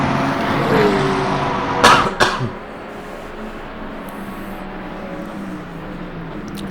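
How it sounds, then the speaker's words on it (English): Two sharp coughs from a sim racer land close together near the middle, over a steady engine drone from Le Mans Ultimate race cars that runs throughout. "Sorry for the cough."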